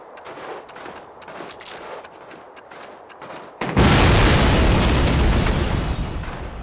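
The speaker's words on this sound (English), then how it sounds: "we need to blow up that flak gun" A flak gun in the original 2003 Call of Duty is blown up: scattered distant pops and gunfire give way to one loud, sudden explosion whose broad roar fills the remaining seconds and slowly fades.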